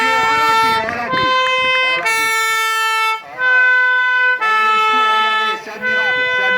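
A fire engine moves slowly past at a soapbox derby, sounding a loud, sustained multi-tone air horn in repeated long blasts, close by, with a commentator talking over it.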